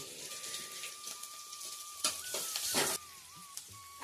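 Onions and green chillies frying in oil in a pan for poha, a steady soft sizzle with a brighter hissing surge midway, fairly faint and without talk.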